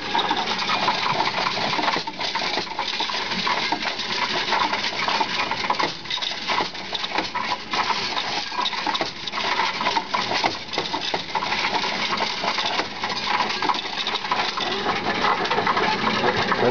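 Loose coins rattle and clatter continuously through a Coinstar coin counting machine, a dense metallic jingle that keeps going without a break.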